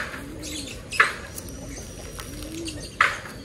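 Racing pigeons coo in a loft: low, soft rolling coos repeat several times in a steady rhythm, with a couple of brief sharper bird calls over a quiet background hiss.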